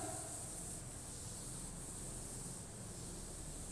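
An eraser rubs out handwritten working on a fraction division problem, producing a steady, close, soft scrubbing hiss that continues without pause and without speech.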